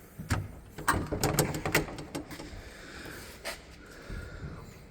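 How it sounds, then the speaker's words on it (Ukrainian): A series of sharp mechanical clicks and clunks, then a softer thud, as the engine hood of a 2018 Toyota 02-8FGF30 forklift is opened up close. "Відкриваємо капот, ось тут він відкривається."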